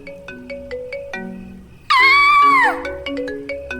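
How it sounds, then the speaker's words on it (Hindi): A mobile phone ringtone plays alone: a bright electronic melody of short plucked tones, then a loud sustained sliding chime before the tune resumes, close and clear. "मेरी फोन की रिंगटोन सुन के डर गई?"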